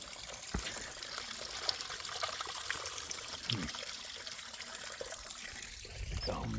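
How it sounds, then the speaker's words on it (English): Water trickles from a spring inside a dark hole along a trail, a faint continuous dribble with a few soft splashes and handling noises near the end. "You have to reach your arm into this dark hole to get your water."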